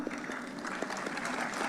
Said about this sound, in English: Let's cheer the remaining degree recipients by clapping louder